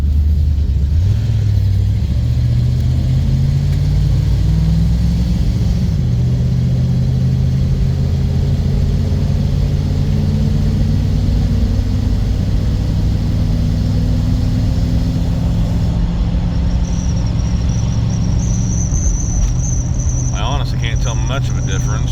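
1990 Dodge Ramcharger engine on a test drive after a fuel pump swap, steady loud rumble with rising and falling revs as it shifts, heard from the cab, insects chirping faintly near the end.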